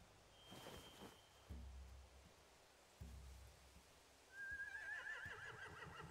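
Horses whinny loudly at close range in the video game The Walking Dead: The Final Season, with hoof clops and a soft patter like rain in the background.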